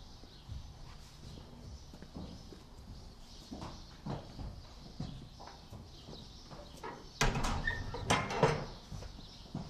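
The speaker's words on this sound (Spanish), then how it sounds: "Aquí está otro. Un caballito perlino, color perlino." A perlino horse shifts about in its stall at a ranch stable fitted with automatic waterers, hooves thudding and scraping irregularly, with louder clatters near the end; no talking.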